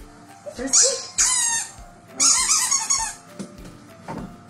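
A squeaky rubber dog-toy ball gives loud, close squeaks in quick bursts of two and three, followed by softer squeaks and light handling noises.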